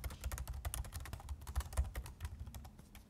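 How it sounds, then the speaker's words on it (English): Steady, fairly fast typing on a computer keyboard during a coding session, soft close clicks in an uneven rhythm, alone without speech. "I'm just gonna start typing add many resources"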